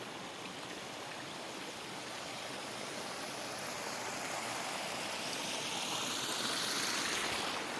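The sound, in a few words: front waterfall of a garden pond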